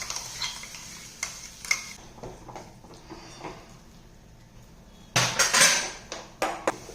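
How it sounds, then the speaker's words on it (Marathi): A masala mixture for hotel-style matar paneer stirred in a pan: intermittent scraping and clinking of a utensil against metal, with a louder burst of stirring and frying near the end. "तेल सुटेपर्यंत हे मिश्रण एकसारखं हलवून घ्यायचं आहे."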